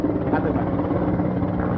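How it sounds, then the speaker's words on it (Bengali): A helicopter flies overhead carrying water to fight a fire during a street protest, giving a loud, continuous rotor thrum that dominates throughout at close range. "এই যে হেলিকপ্টারে করে হচ্ছে যে পানি নিয়ে হচ্ছে পানি মারতেছে।"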